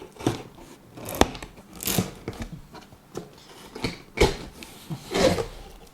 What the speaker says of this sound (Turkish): Şuradaki bantlarından da hemen açmak istiyorum.